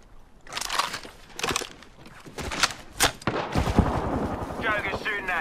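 Gunfire in the Apex Legends video game, several loud separate bursts and single shots spaced through the clip with a denser rattle near the end, close and punchy, with faint game voice underneath.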